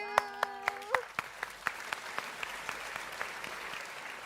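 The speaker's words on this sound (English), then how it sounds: "And this is our cute little Khôi. Round of applause." A quiet, sparse round of applause at a school English speaking event, with a few distinct claps at a steady rhythm following a brief tone, faint and somewhat distant.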